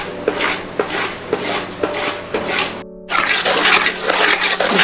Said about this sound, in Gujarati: સતત એને હલાવતા રહેવાનું છે આપણે